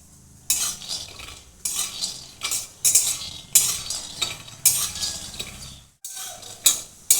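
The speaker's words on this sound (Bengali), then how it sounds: "ততক্ষণ আমি দুটো বাদাম ভেজে নেব।" Peanuts dry-roasting in a pan are stirred with a spatula in repeated bursts of scraping and rattling, loud and close, broken by short pauses, with no voices.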